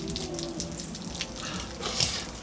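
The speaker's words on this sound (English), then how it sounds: "I'm sure this water is probably gonna just spray out" Water spraying out of a cut drip irrigation line, a steady close hiss of rushing water with brief spattering bursts, heard alone.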